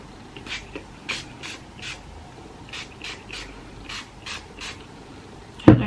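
Short hissing bursts of hair spray aimed at the ends of hair, about ten in an uneven rhythm, close by, ending with a sharp knock.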